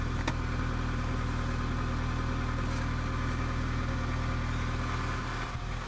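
A Honda DC2 with a Tanabe Hyper Medallion exhaust idles steadily and close by, a deep, even rumble holding level throughout with no voices.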